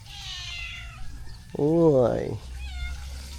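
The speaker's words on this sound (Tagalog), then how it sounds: "Uy, pusa yun ah." A cat gives one long, drawn-out meow close by, outdoors around a house. A person makes a brief exclamation just before it, over low background hum.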